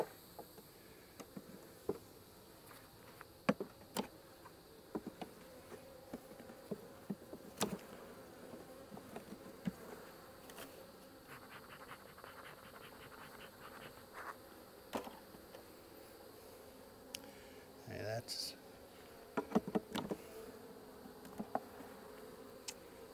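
Honey bees buzzing around an open hive outdoors, a steady low drone with scattered louder passes of individual bees close by and occasional small knocks.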